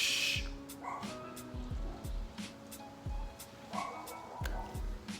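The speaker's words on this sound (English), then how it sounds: "And my dog is barking" A dog barks and yips repeatedly indoors in short bursts with brief gaps between them. The barks are fairly close and loud, with no speech over them.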